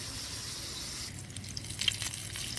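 Bacon frying in a pan over a campsite fire, a steady soft sizzle with a few faint crackles and pops, continuous and fairly quiet.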